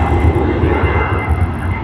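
A Virgin Australia airliner on the Sydney to Melbourne service VA 870 roars loudly at Sydney Airport, a dense, close rumble of jet engine noise sustained throughout.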